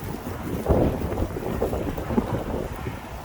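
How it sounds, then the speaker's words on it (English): Gusty wind blows steadily across an open-air microphone near a boat on the water, a broad rumbling roar that swells and buffets throughout with no talk. "The wind, definitely."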